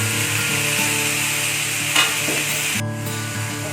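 Mixed vegetables cook in a pan with a steady, close sizzle that runs throughout, broken by a brief stir or scrape partway through; no one talks.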